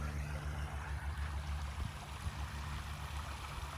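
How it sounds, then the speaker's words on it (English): A small stream at Lake Ashby County Park in Florida drops about two feet over a little waterfall, a steady, close rush of falling water with a low rumble underneath and no voices. "it's almost like a little waterfall"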